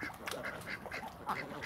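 A flock of ducks, released near a new bridge, quacking in quick repeated calls that overlap one another, fairly close and moderately loud, without talk.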